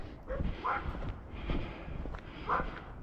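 Small poodles, one little and one bigger, bark at someone walking past in Lewiston, Maine: a few scattered yaps at moderate distance over outdoor background noise.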